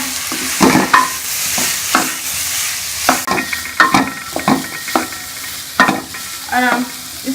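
Boiled potatoes for samosa filling being stirred and mashed in a pan, with repeated sharp spoon scrapes and knocks against the metal over a faint sizzle, close and irregular in rhythm.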